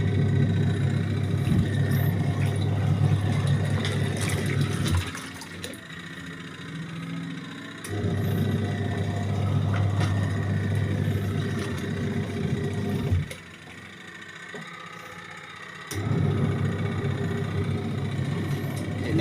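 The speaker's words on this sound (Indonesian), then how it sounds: "Ini mesin cuci yang 7 kiloan ya, yang kapasitasnya untuk 7 kilo." A 7 kg capacity washing machine runs with water inside, giving a steady low churning hum and swishing that drops away twice for a few seconds between agitation cycles, close by and without talk.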